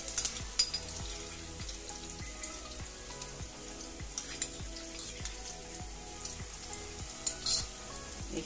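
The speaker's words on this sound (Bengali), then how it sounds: "এইখিনি ভালদৰে লৰাই দিছোঁ" White egg korma being fried and stirred in a pan, a continuous crackling sizzle overlaid by a steady rhythmic scrape of the spatula in repeated strokes, close and clear, with no speech.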